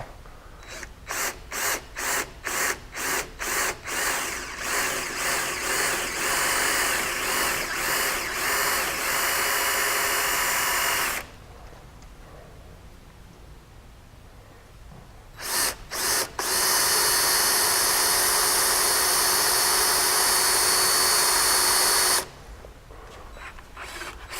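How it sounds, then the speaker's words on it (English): A power drill whirs in short bursts while drilling a hole in UHMW plastic, then runs in long sustained stretches, loud and close, with brief pauses between. "And then just go ahead and drill it out."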